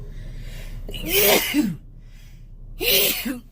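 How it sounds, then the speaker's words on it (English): Two loud, close sneezes, each with a sharp breathy burst, separated by a short pause. "Excuse me, I sneeze."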